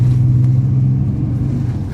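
Toyota Sequoia TRD Pro engine droning steadily and loud while driving on a dirt road, a constant low hum and rumble with no break.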